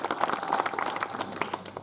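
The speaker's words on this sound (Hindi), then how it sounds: "बधाई है ताली बजा दी" Village audience at a Ramayana recital clapping briefly, a quick burst of scattered hand claps from a small group, fairly close and moderately loud.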